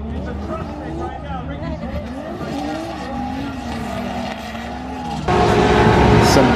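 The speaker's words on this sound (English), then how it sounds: "Some drifting." Supercharged drag car with a centrifugal blower revving through a drift at a summer nationals car show, engine note rising and falling with tire squeal, then a sudden louder burst near the end.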